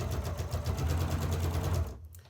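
Sewing machine running steadily as it stitches quilt strip sets, a continuous close whirring hum with rapid needle pulsing that stops near the end.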